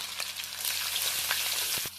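Chopped garlic and green chilli sizzle in a hot wok, a dense steady crackle with a few sharper spatters near the end, close and moderately loud with no talking.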